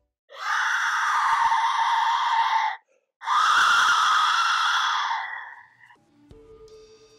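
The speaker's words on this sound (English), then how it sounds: "you hear thousands of whistles that sound like women screaming in pain" Shrill, wailing blasts from Aztec death whistles, thousands sounding together like women screaming in pain; two long loud screeching bursts separated by a brief gap, the second fading out.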